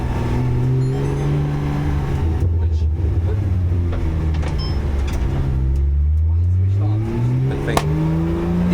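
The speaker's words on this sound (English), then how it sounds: "This is going to be one of the very few times that I'm using automatic mode for the gearbox, so it can downshift for me and upshift as well." A Porsche GT3 in automatic gearbox mode accelerating hard, its loud engine note rising and falling as the transmission shifts up and down, close and continuous, with a driver's voice faintly underneath.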